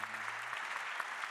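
Audience applause at a round table on family businesses in Europe, a faint, even spatter of clapping from a modest crowd; a brief low tone sounds at the start.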